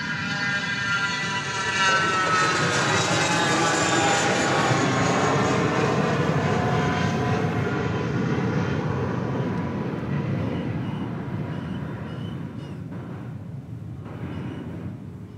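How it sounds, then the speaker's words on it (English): Boeing 737 MAX 8 airliner landing at Dallas Love Field, a loud, steady engine roar and whine that swells and then slowly fades as it passes, with no talk. "There's a plane coming in over on the west side of Dallas Love Field. Looks like a MAX 8 arriving from San Antonio"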